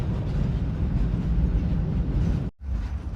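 Freight train rolling along rails in Jordan, a steady loud rumble and clatter filling the clip, broken by a brief dropout near the end before resuming.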